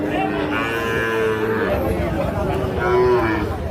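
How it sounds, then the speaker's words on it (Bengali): Sahiwal bull calves about five to six months old moo at a busy cattle market. Two drawn-out moos sound close by over a steady background of crowd chatter. "শাহিওয়াল জাতের ষাঁড় বাছুর।"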